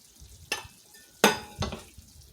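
Room-temperature shrimp dropped into a pan of gently simmering liquid, giving three short sizzling bursts at close range, each fading back to a low bubbling hiss between.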